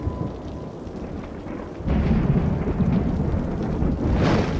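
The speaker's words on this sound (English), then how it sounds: "A thunderstorm is battering the city." Thunderstorm over a city in a city-building game: quiet rain hiss, then a sudden heavy rumble of thunder with steady rain that swells again near the end.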